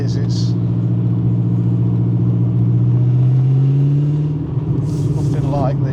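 Modified TVR Griffith 500 with a 5-litre engine revving loudly up close, a deep growling drone that rises in pitch and holds before easing off, with people talking over it.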